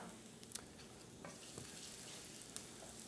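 Chopped garlic sizzles in olive oil in a hot skillet, a faint, even hiss with a couple of light metallic clicks from stirring.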